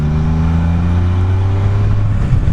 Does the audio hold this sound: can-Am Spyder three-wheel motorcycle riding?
yes